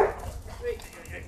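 A guide dog puppy in training gives a quick yip or bark at the start, then faint whimpers under a narrator's voice.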